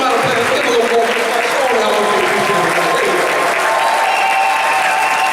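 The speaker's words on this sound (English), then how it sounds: "Come on, let's give it a round of applause." Crowd applause at a convention, continuous loud clapping from a large audience with cheering voices mixed in.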